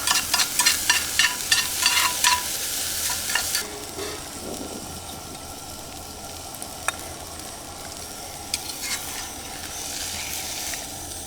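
Eggs and cheese fry in a pan outdoors with a steady sizzle, and stirring scrapes pulse rhythmically at first before the frying settles into a continuous crackle.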